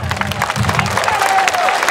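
Audience applause at a lively religious lecture, a loud burst of crowd clapping mixed with cheering and murmuring voices, close and dense throughout.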